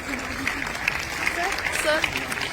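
An audience applauds loudly at a Brahma Kumaris Sister Shivani class in Swasthya Vihar, Delhi. Dense, continuous clapping fills the room, with voices mixed in.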